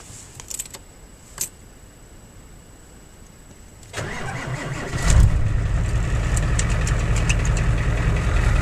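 A Ford 7.3 IDI diesel with a new positive battery cable cranks briefly and fires, then settles into a loud, steady clattering idle close by, with no talk.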